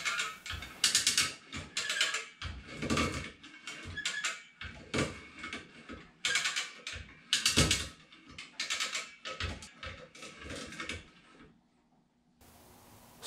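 A John Deere L118 lawn tractor's front end is raised with a jack, giving a series of close mechanical ratcheting clicks and metal clunks in uneven bursts, ending in near quiet.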